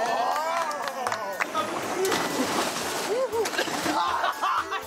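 People jumping into cold water in an unheated pool, splashing and sloshing under loud cheering and excited voices throughout.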